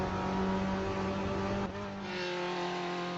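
A race car engine roars down the straight in the Automobilista 2 racing game, a loud, steady, high drone that shifts pitch partway through, as if changing gear or lifting off.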